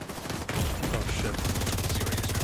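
Rapid magazine-dump gunfire in The Division 2, a fast unbroken stream of shots after a short lead-in, loud and close, with faint talking underneath.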